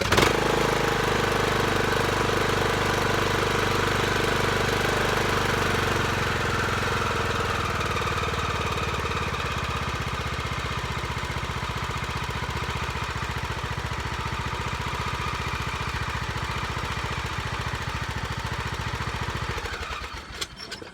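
A tractor engine, just fitted with a new fuel filter, runs loud and steady at idle for about twenty seconds, with a rough, knocking mechanical rumble before it cuts out abruptly near the end.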